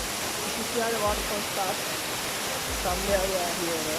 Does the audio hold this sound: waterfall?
yes